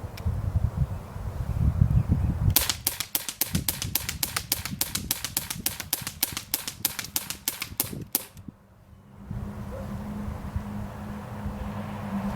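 A cheap Crosman P10 pistol fires rapidly, a run of about twenty sharp, evenly spaced snapping shots close by. A short pause follows, then quiet rustling handling noise.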